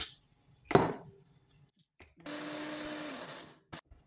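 A mixer grinder grinds cashew nuts in a kitchen in a single short whirring burst of about a second, with scattered clinks and knocks of jars and utensils around it.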